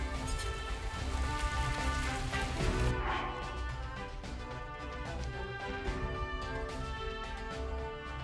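Steady rain pours during a thunderstorm in the video game Hyrule Warriors, a dense continuous hiss with game music layered underneath throughout.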